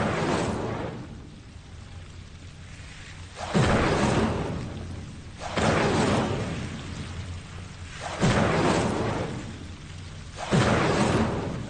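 Repeated Incendio fire spells cast in Hogwarts Legacy, with about five loud roaring fire bursts a few seconds apart, each swelling and fading over a low rumbling background.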